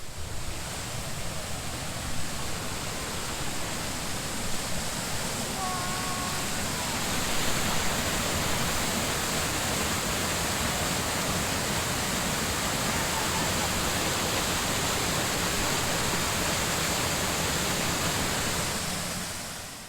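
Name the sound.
loud water rushing from pipe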